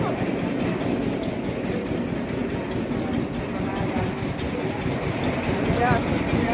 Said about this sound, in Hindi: यह ट्रेन ले जाएगी एलिफेंटा के पहाड़ के ऊपर